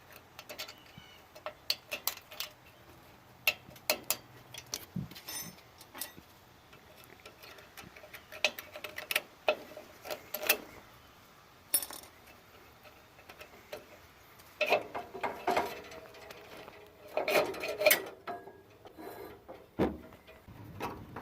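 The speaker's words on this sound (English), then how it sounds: "you can just break the thing apart with a tiny little flathead screwdriver, as you can see I'm doing here." Small flathead screwdriver prying and snapping apart rusty, aged cable connector prongs on a Jeep Comanche, heard as a string of sharp clicks, ticks and scraping snaps at an irregular pace, close and moderately quiet.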